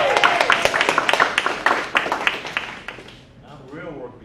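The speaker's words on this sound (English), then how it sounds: "Clap." An audience claps in a burst of sharp, uneven hand claps that thins out and stops, followed by a brief quieter moment with a voice starting to talk.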